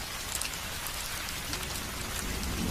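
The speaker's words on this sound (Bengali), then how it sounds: "তাকিয়ে দেখি বাইরে বৃষ্টি পড়ছে।" Steady rain falls outside at night in a Bengali ghost cartoon, a dense, even hiss of drops close by with a faint low rumble underneath.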